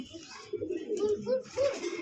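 Pigeons at a pigeon farm, including a breeding pair, give several soft, close, rolling coos in a short repeating pattern over a low background hum.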